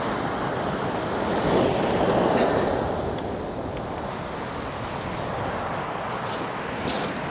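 Sea waves surge and break on the beach at Eastbourne, a loud, continuous wash of surf with gusty wind buffeting the microphone, swelling to a heavier crash early on.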